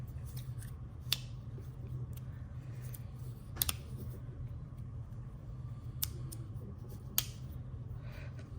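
A magnetic spiral fidget slider is flipped up and down on a desk, giving a few sharp, isolated clicks spaced irregularly over a steady low background hum.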